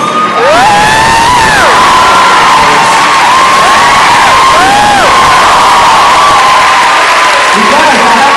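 Large London theatre audience at a book tour event, loud continuous clapping mixed with cheers, whoops and high shouts, filling the whole stretch close and dense.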